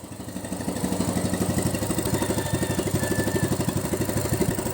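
A brand-new engine runs steadily through its break-in, a close, loud mid-pitched chug with a fast even pulse that holds from start to finish, no voices over it.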